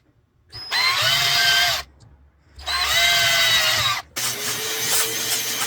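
A power drill bores screw holes for casters into the base of a walnut and marble kitchen island, running in three loud, close bursts with short pauses between them.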